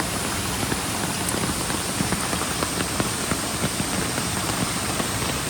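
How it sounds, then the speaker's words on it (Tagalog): Heavy rain pours down during a stream trek in Tai Shing Stream, a constant dense hiss of drops on the surroundings with scattered louder splats, steady throughout and alone without voices. "Lakas ng ulan, grabe oh."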